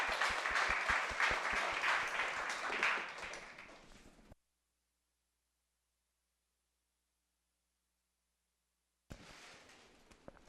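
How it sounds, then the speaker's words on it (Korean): Audience applause welcoming a lecturer at a police-academy exam information session: sharp, close claps that fade after about four seconds, a long silent gap, then a few more scattered sounds. "박수 부탁드리겠습니다."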